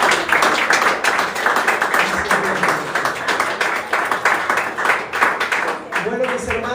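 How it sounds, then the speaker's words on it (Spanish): A church congregation claps continuously with dense, uneven applause filling the room, and a Spanish-speaking voice comes in briefly near the end. "Démosle un fuerte aplauso"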